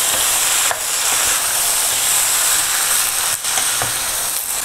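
Chicken is stirred into a roasted coconut masala for a Kerala chicken curry, giving a loud, dense, continuous sizzle with a few brief dips and faint scraping from the stirring.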